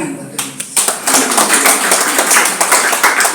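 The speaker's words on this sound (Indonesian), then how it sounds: "Tepuk tangan buat Tuhan." A church congregation at a Sunday worship service clapping hands together, quick uneven claps building into a sustained burst of applause, fairly close and loud, with a voice heard under it.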